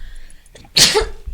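A person lets out a single loud, close sneeze, a short intake followed by a sharp explosive burst that trails off quickly, with no talk during it.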